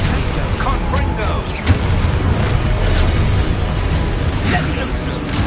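Confringo fire spell blasts in the video game Hogwarts Legacy, dense booming bursts and crackling impacts over a loud, busy game soundscape, with shouted spell incantations mixed in.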